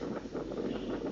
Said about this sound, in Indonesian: Angin tetap kencang.